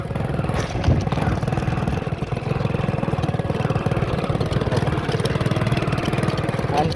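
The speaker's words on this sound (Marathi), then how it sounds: "तर गाईज ह्या गाडीचा आवाज बघा हो का," A vehicle engine idles close by, a steady low throbbing rumble with an even pulse that runs unbroken and fairly loud throughout.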